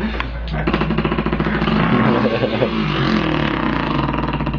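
A dirt bike engine in a video game revs loudly and steadily, a buzzy, harmonic-rich drone that rises and wavers slightly throughout.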